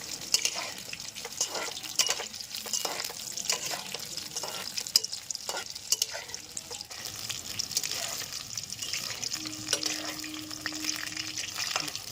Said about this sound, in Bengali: আমাদের সয়াবিন কোট করে রাখা সয়াবিনগুলো এবার ভেজে নেব।